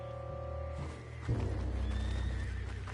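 A spooked horse neighs in Red Dead Redemption 2, a sharp whinny breaking out partway through over a steady ambient game background, close and fairly loud, followed by a low thud.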